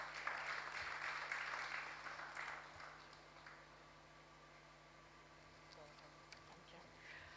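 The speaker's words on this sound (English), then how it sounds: "Please let's give her a round of applause." Audience applause at the launch of a national immunization and indicator survey in Nigeria, a brief burst of clapping that fades after a few seconds into a quiet room hum.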